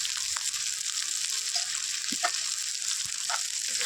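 Vegetables and spices stir-fried in a pan give off a constant soft sizzle, broken by a few light scraping clicks of stirring, with no voices.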